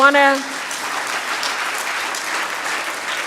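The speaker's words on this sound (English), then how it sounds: "Give yourself a round of applause." A conference audience at an EU-Caribbean sargassum meeting breaks into applause right after a brief voice, the steady, moderately loud clapping of a seated hall filling the rest of the moment.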